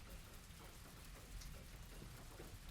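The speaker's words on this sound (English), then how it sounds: "When it was raining like this." Steady, even rain falls throughout, a soft continuous hiss with no voices.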